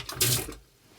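A short hissing spray of water from a toilet bidet inside a luxury 2024 Mercedes Sprinter VIP van, a close burst lasting about half a second before cutting off to quiet.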